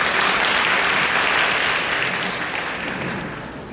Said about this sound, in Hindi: जोरदार तालियां बजाकर स्वागत कीजिए भाई का